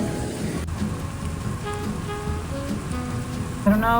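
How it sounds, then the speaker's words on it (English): Rain from a light spring thunderstorm patters steadily and evenly, with a faint tonal sound drifting over it and a brief bump near the end. "I don't know if y'all can hear the rain or not, but it's so pretty."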